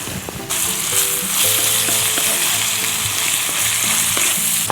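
Sliced bell peppers and hot peppers sizzle steadily in a pan over an open fire, with a continuous bright frying hiss and scattered low clatters of stirring, close and fairly loud, with no talk.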